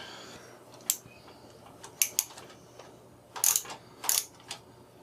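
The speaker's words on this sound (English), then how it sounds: "we just hold it while we get one of the screws started" A screw is started into a computer power supply during a desktop PC build, making several short bursts of metallic ratcheting clicks and small scrapes, close and fairly quiet against a faint background hum.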